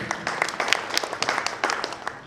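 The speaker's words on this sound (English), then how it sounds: "Let's clap for them." Audience applause at a business event, a short burst of scattered hand clapping from a room full of people.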